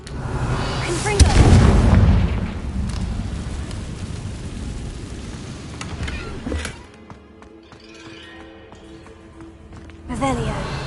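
Fire-spell explosions in the Hogwarts Legacy video game boom out, a heavy blast near the start with rumbling aftermath, then a quieter stretch and another burst near the end, over game ambience.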